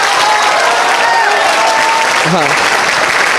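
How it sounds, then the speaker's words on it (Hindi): Loud, continuous applause from a large crowd at a gathering, dense clapping with cheers and a voice briefly audible over it. "तो एक बार ताली बजाइए सर के लिए।"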